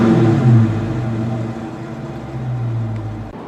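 A 2016/2017 Dodge Charger ScatPack engine rumbles up close, a loud low-pitched drone that swells briefly early on, then settles into a steady hum before a short dip at the end.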